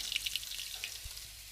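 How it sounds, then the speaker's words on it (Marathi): Mustard seeds and cumin hit hot oil for a home-style tempering, giving a brief, faint crackling sizzle with a light watery hiss. "थोडीशी मोहरी टाकली आहे, थोडंसं जिरं टाकायचं आहे."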